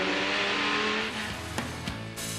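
Race cars roar past at the Daytona Rolex 24 Hours endurance race, a dense, loud engine drone with sharp pitch shifts as cars pass close by, and no voices.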